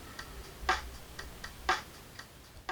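A drum track plays faintly through headphones resting on top of a JOYO DC-15s guitar practice amp. Soft, regular clicks and hi-hat ticks repeat in an even beat.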